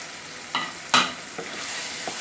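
A spoon stirring chickpeas frying with spices in a pan for chole, a few brief scraping strokes over a low steady sizzle, close and fairly quiet, no voices.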